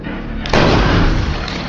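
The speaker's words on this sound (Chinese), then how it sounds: "大爷忙开数枪，并未命中。" A blind old man fires a gun in the horror thriller Don't Breathe: one sudden, loud, close blast cuts in partway through and rings out into a sustained, roaring tail inside a house.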